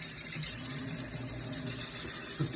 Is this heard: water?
yes